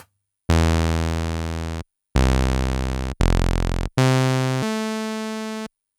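Four sustained notes from a Behringer MS-101 analog synthesizer with low sustain and about 50% decay, buzzy and harmonically rich, each holding steady for about a second before cutting off, loud and clean with no voices.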